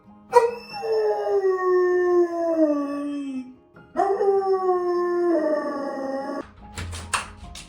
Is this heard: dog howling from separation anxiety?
yes